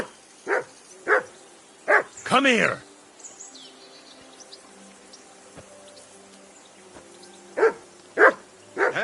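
A dog barks repeatedly in a medieval village scene from Kingdom Come: Deliverance II, loud, close bursts in two clusters with a short gap, and a voice calls out between them.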